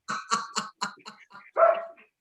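A dog barks in a quick run of sharp yaps, seven or eight close together and then a longer, rougher bark, fairly faint, with no talking.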